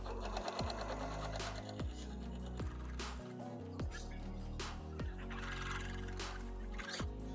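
A sewing machine stitches fabric for a bicycle bag in short, regular runs, each stitch a quick rhythmic thump, with brief stops and restarts between seams. It is close and unaccompanied.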